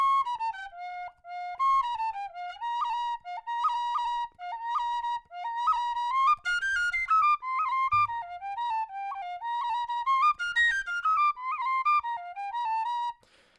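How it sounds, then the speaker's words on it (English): A Generation tin whistle in F plays a lively melodic tune alone, with clear, bright sustained notes and quick ornamented runs throughout. "that's what the whistle sounds like."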